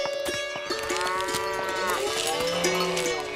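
Cartoon buffalo lowing in a Hindi animated story, several drawn-out moos with rich harmonics overlapping one another, close and loud against a busy background, with no talk.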